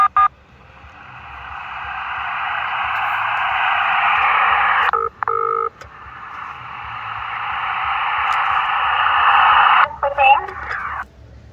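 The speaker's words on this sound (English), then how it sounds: "So that's connecting now to the HF radio." A Barrett 940 HF radio telephone interconnect placing a call to a landline, giving long steady tones broken by short gaps and brief dialing chirps, loud and close, with quiet static in the background.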